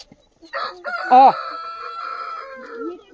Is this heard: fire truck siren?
no